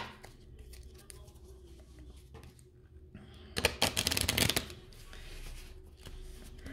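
Tarot cards being shuffled by hand, a quiet riffling flurry that builds to a brisk, crackling burst lasting about a second, set against a faint room background with soft handling rustles before and after.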